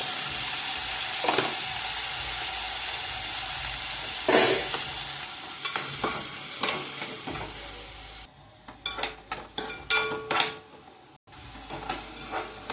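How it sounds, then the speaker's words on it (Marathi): Cluster beans frying in oil with tomato, cumin and asafoetida, a steady close sizzle with intermittent scraping and stirring clatter from a spatula in the pan. "गवार नीट भाजून घ्यायचे तेलामध्ये"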